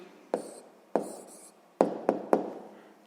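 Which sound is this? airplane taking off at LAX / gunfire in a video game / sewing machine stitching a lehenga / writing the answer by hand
writing the answer by hand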